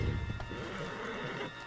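A horse in the Red Dead Redemption 2 video game lets out a short neigh and snort right at the start, then steady hoof clip-clop and ambient game noise carry on under it without speech.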